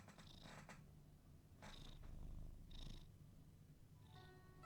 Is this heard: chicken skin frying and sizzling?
no